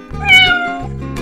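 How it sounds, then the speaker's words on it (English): A single clear, close meow from a cat, drawn out and rising then falling. "Inside was a cat."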